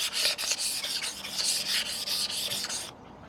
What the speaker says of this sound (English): So we'll just go ahead and just gently rub that down a bit